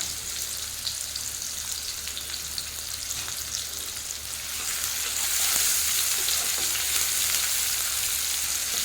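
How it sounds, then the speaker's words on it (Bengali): Chopped onion and green chilli fry in hot oil, a dense continuous sizzle with light crackling that swells louder about halfway through. "তেল গরম হয়ে গেছে, এখন দিয়ে দেবো পেঁয়াজ কুচি, সঙ্গে দিয়ে দেবো কাঁচা লঙ্কা।"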